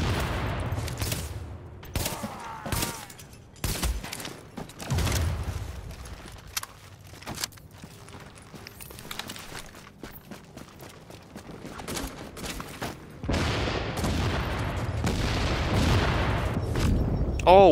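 Bursts of video game gunfire in The Division's Dark Zone, with rapid automatic volleys and heavier booms scattered across the clip and a dense stretch of shooting near the end, under occasional player talk.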